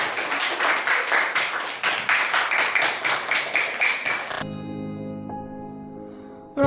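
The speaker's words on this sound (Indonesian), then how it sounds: "tepuk tangan ya." An audience claps hands in a steady, rhythmic unison beat for about four seconds during a Year 7 Indonesian-language lesson on folk poetry, then the clapping cuts off abruptly and a sustained musical tone rings out.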